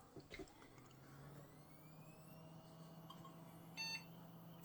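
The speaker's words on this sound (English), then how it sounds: "It's beeped into life." An old AMD Athlon 64 3200+ desktop PC powering up, with a soft click and then a short, faint electronic beep over a low hum of fans and whine.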